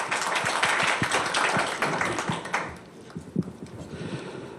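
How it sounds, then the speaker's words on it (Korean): A forum audience welcomes a Korean-Chinese relations speaker with sustained applause, dense and fairly loud at first, then thinning to scattered claps toward the end. "박수로 맞아주시기 바랍니다."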